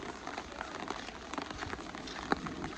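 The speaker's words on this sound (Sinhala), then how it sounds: "එළිය වහිනවා හොඳට" Steady rain patters on a surface, a dense even hiss with scattered drops standing out, no voices.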